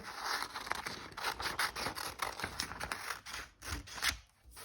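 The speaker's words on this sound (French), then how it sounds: "Alors, tu commences par découper" Scissors cutting out paper butterfly shapes, a close, quiet series of crisp snips and rustling paper rubs in an uneven rhythm, with no talk.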